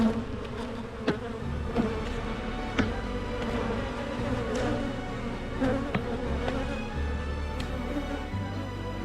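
Honeybees buzz in a steady, dense hum around an open hive frame, close and continuous, with occasional light knocks from handling the frame.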